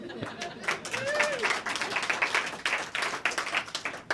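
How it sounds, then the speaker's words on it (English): Live comedy audience at the Handlebar in 1989 claps throughout, a dense steady patter of many hands mixed with crowd voices, moderately loud across the whole stretch. "God deserves quite a round of applause"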